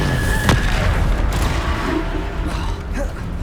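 A spell impact from the Descendo spell in Hogwarts Legacy: a sharp crack followed by a heavy, rumbling boom and swirling magical whoosh, loud and close, with no voices.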